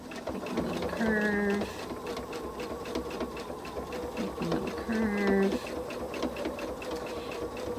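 A sewing machine stitching a quilt block, its fast steady needle chatter running close and loud with brief slowdowns where the fabric is turned, plus a faint voice in the background.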